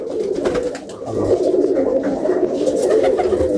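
Racing pigeons coo steadily and close by, a continuous layered murmur of low rolling calls from many birds, alone with no talk.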